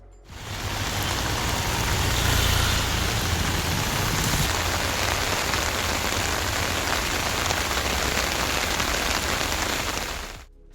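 Heavy northeast monsoon rain in Tamil Nadu, a dense continuous roar of downpour drumming on surfaces, loud and steady from start to finish with no voices.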